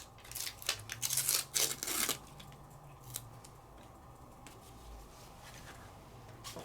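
Backing is peeled off an embossed, die-cut paper piece in a crackling, tearing rush lasting about two seconds, followed by quiet room tone.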